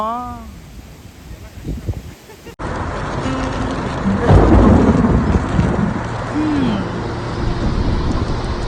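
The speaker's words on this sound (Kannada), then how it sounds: "ಮಳೆ ಶುರುವಾಯ್ತು" A low, rolling thunder rumble swells over a steady hiss of rain, after a brief stretch of quieter sound with a short voice-like call.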